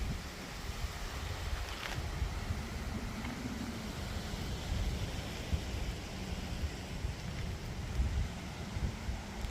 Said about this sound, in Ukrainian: подивіться, який страшений вітер, він аж свистить